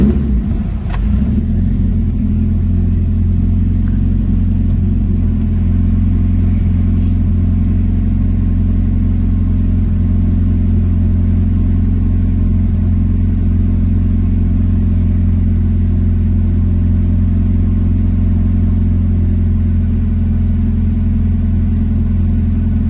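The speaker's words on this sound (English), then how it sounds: "He came into the shop, fired the car up, and this was the idle" A Mitsubishi Lancer Evolution IX engine starts up in a shop and settles into a smooth, steady idle, a loud, close, continuous low rumble with no voices over it.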